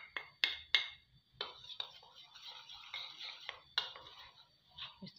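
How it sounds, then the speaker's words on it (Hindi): Custard and milk being stirred in a pan, with sharp spoon scrapes and clinks against the metal at irregular intervals, some in quick pairs, amid softer swishing and faint background noise. "अब जो कस्टर्ड और दूध इलादा रखा था इसको डाल मैं इसके अंदर डालूँगी और इसको अच्छे से मिक्स करूँगी"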